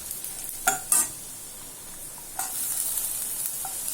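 Onions and garlic are stirred and sautéed in a pan for a radish thokku, a soft steady sizzle with a few scraping stirs of the spoon near the start and middle.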